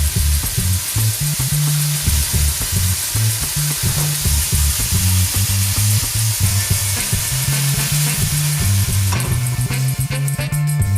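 Chopped heirloom cherry tomatoes sizzle and spit in a hot pan, a steady frying hiss broken by repeated scraping and stirring of a utensil against the pan.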